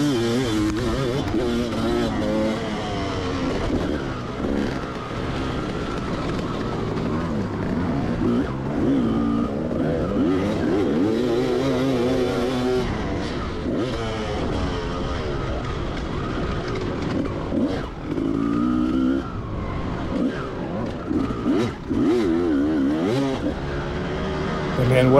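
125cc two-stroke motocross bikes race at Washougal MX Park, engines revving and dropping in shifting pitch beneath continuous talk, at moderate loudness.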